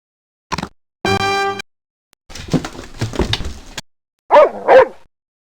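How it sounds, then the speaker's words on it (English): Alaskan Malamute barking in the Microsoft Dogs computer game: a short yip, a sustained harmonic howl-like bark, a noisy rough stretch, then two sharp bright barks, close and loud with no talk. "Alaskan Malamute."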